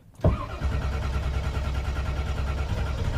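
The carbureted engine of a 1978 Chevrolet Monza Spyder cranks briefly, then catches with a sharp burst and settles into a steady, close, rumbling idle. No voices are heard.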